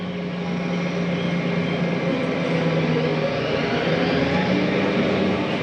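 Pottinger triple mowers spin up on a tractor PTO, making a steady, loud droning whir with a constant mechanical hum that holds evenly with no talking.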